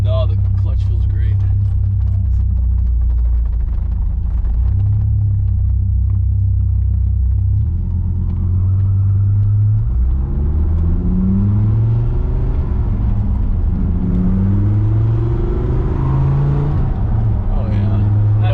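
A Dodge Viper with a T56 gearbox and new hydraulic slave cylinder rumbles steadily from inside the cabin while driving, with gear changes and rising engine tones under the drone, loud and close.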